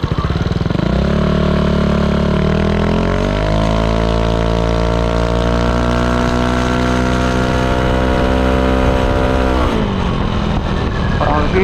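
A Yamaha Aerox 155 scooter with a ROB1 aftermarket exhaust, recorded close at the muffler, revs up from idle into a loud sustained high-pitched drone, holds steady for several seconds, then drops back down.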